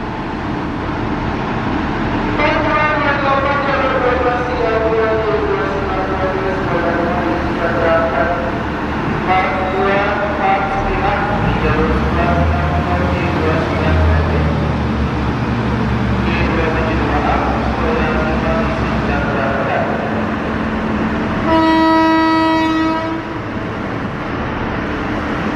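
A JR 203 KRL commuter train at Manggarai during a derailment evacuation rumbles along with a low, steady mechanical drone, then gives a loud horn toot near the end.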